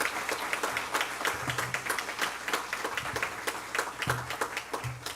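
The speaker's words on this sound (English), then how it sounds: "A collective round of applause for these 24 remarkable young people." An audience at an honors banquet applauds students with a lively, sustained round of clapping; individual claps stand out sharply against the broad wash, and a few heavier thumps punctuate it.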